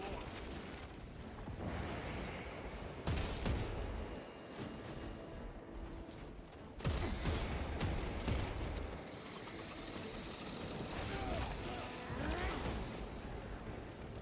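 An alien gun fires parasites in the Warhammer 40,000: Space Marine 2 video game in bursts of chaotic gunfire mixed with wet, splattering impacts, fairly faint and irregular in rhythm, with heavier thumps around a few moments.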